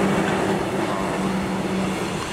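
A train rolls past on the rails without stopping at remote Koboro Station in Japan, a steady rumbling roar with faint rhythmic clatter, heard alone at moderate distance.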